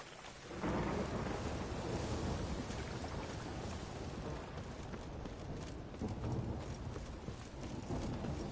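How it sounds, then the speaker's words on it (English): Thunder rumbles over steady heavy rain in The Witcher 3, a dense continuous roar with rolling low swells and scattered crackles, filling the whole stretch without any voices. "A storm, damn it."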